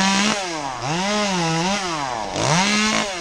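A tree climber works a chainsaw up in a tree during arborist pruning. The engine revs and bogs in wavering surges as it cuts, loud and close, with no talk.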